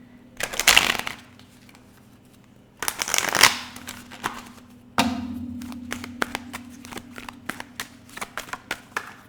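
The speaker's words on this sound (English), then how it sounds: "Let me shuffle one more time." A deck of tarot cards is shuffled in three close riffling bursts, and the last one trails off into a run of soft taps and card flicks.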